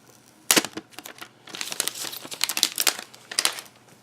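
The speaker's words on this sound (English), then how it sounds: "Let's take the tape off, or the plastic." Plastic wrap and tape crinkle and tear off a 2019 Apple TV box in close, irregular bursts, starting with a sharp rip and followed by several seconds of busy rustling.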